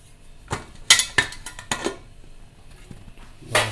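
A pressure cooker holding freshly cooked chicken curry being opened after two whistles, heard as a run of sharp metallic clanks and clinks of lid and pot, close and fairly loud, ending with a brief hiss-like burst.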